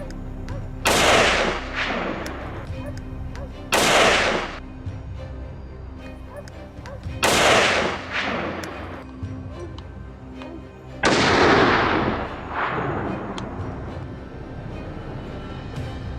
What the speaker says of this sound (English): gunshots rang out in succession, instantly halting its escape.